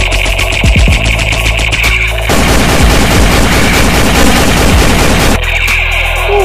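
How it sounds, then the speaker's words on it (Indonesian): A Captain America toy sniper gun plays an electronic shooting sound effect, loud rapid bursts of synthetic gunfire and booms with a repeating pattern, close and unbroken by talk. "Ada Kapten Amerika Sniper."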